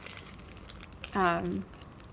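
A small plastic baggie of assorted yarns crinkles briefly when handled, a single short rustle of about half a second in an otherwise quiet room.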